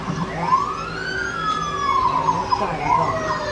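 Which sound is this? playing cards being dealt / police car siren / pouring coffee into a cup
police car siren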